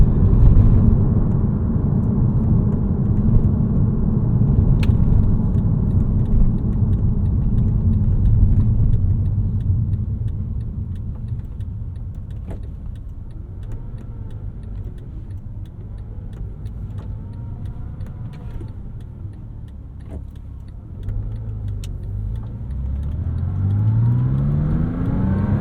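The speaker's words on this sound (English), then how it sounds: "I love the sound of that flat six." A 2006 Porsche Cayman S flat-six pulls hard under acceleration, loud and close, then eases into a steadier, quieter cruise hum before revving up again near the end; no voices.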